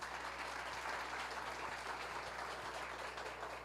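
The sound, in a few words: audience applause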